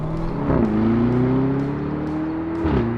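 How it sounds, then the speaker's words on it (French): Lamborghini Urus accelerates with a steady rising engine drone, a clear gear shift dropping the pitch twice as it pulls away. "Oh, le passage de vitesse."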